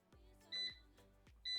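Two short bursts of high electronic beeps from an air fryer control panel while the temperature is set, a quick pair of tones each time, close and clear against a low hum.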